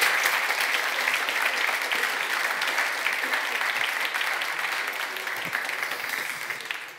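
Audience applause fills a hall at the final of an eloquence tournament in Namur, a dense, steady clapping that holds for several seconds and fades slightly at the end.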